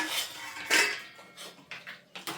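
Plastic thali being set down and shifted in a home kitchen while dhokla is prepared, giving a few sharp clattering knocks and lighter taps at irregular intervals, close and without talk.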